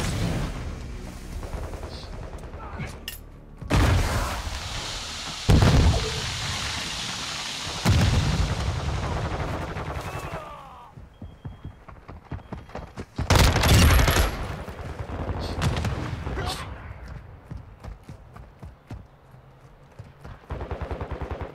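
Bursts of gunfire ring out in the Modern Warfare 2 video game: rapid automatic volleys and heavy booming shots come in several loud clusters, separated by quieter stretches of scattered pops.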